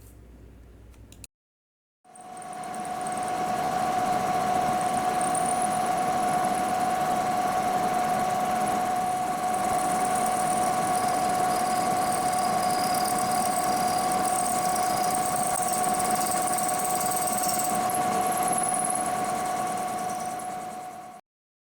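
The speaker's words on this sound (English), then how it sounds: "So now I can trim out the threads with a 1/4 inch end mill, just on the upper half." A milling machine cuts threads with a 1/4 inch end mill, giving a steady, sustained hum with a constant tonal whine. It starts abruptly after a brief pause and runs evenly throughout, close and fairly loud, with no talking.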